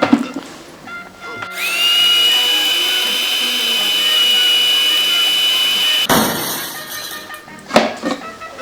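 A mixer grinder whirs loudly and steadily for several seconds, then stops, followed by clattering and a couple of knocks.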